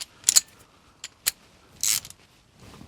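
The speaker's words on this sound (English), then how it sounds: "grab the ratchet," A ratchet clicks in a few short bursts as it turns a spark plug socket on a Ford Mondeo Mk3 engine with a misfire, close and sharp, separated by brief pauses.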